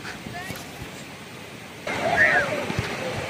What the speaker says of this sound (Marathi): पांढरं शुभ्र असं फेसाळणारं पाणी जसं गाणं गात चाललं आहे.